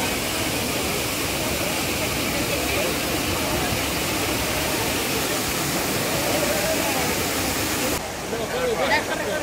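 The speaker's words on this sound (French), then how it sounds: "je suis venue dire au revoir à la fontaine de Trévis" Dense, steady rush of water from the Trevi Fountain in Rome, filling the space continuously with faint crowd murmur and voices mixed in.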